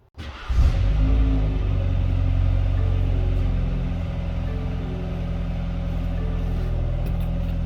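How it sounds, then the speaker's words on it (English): A car engine cranks and catches, then settles into a steady, close, low rumbling idle that runs without pause. "Alright, I started up the vehicle."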